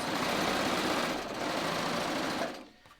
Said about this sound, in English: I'm just going to serge right across